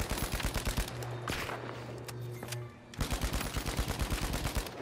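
Rapid automatic gunfire in the video game The Finals, long bursts of sharp rhythmic shots with a brief pause and a humming tone before firing resumes, loud and close.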